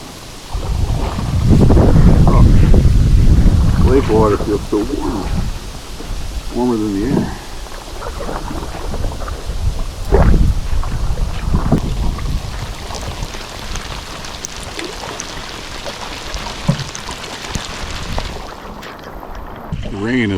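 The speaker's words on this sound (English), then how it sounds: "rain is starting to lighten up." Steady rain on a lake during a solo canoe trip on the French River, a broad hiss near and constant, with deep rumbles that may be distant thunder and a voice talking at times over it.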